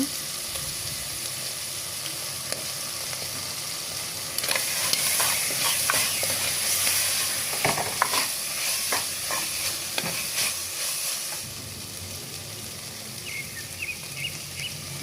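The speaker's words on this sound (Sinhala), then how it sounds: "ඊට පස්සේ තක්කාලි සෝස් ටිකක් දාලා කලවම් කරගන්න." Tomato sauce being stirred into a bite mixture frying in a pan over medium heat, giving a steady sizzle with scraping stir strokes that grow louder in the middle and then ease back to the sizzle, with no voices.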